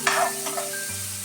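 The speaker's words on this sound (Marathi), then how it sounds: "आता हे कांदा आणि टोमॅटो चांगले फ्राय झालेले आहेत." Onion and tomato fry in a pan, sizzling steadily up close with a scrape of stirring at the start and a low hum underneath.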